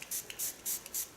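A spray bottle mists liquid onto freshly permed curly hair in four quick, soft bursts spaced evenly apart, faint and close with no talk.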